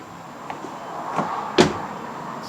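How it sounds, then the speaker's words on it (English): The front left door of a 2013 Ford Escape swings shut with one soft, close thud after a few faint creaks and clicks, in a quiet setting. "when I close it, you can see the door, it goes down"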